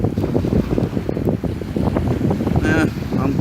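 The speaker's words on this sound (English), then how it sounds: "Wind's blowing, it's a little chilly right now." Steady wind blowing at a beach on Sanibel Island, Florida, a continuous rushing roar with a voice speaking briefly over it.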